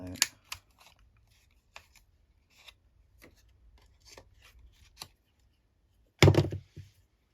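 A corner rounder punch snips the corners of paper tags with a few sharp, separate clicks and crunches, the loudest cluster coming near the end amid quiet handling sounds.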